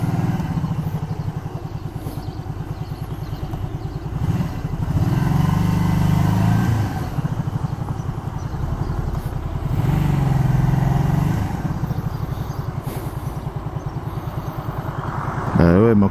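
A Honda Shadow 125 motorcycle hums along steadily on the road, its engine note rising and falling as the rider changes pace. The engine stays loud and close throughout, and someone talks over it at times.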